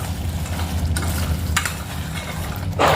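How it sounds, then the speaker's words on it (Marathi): Tomato puree sautéing in hot oil for dhaba-style dal fry, a steady close sizzle with scraping stir strokes and a louder burst of hiss near the end. "आता याला चांगलं तेल सुटेपर्यंत तसेच याचा कच्चा वास जाईपर्यंत परतवून घ्यायचा आहे"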